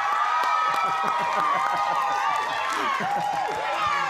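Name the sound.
audience applause at debate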